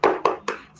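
Hands clapping in a cheer, three quick sharp claps in a row with a fourth starting, close and fairly loud.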